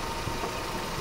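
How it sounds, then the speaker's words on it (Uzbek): A Chevrolet Nexia 3 engine idling, a steady, even mechanical hum with a faint vibration and no change in pace across a brief moment. "motor holat ishlab turibdi do'stlar"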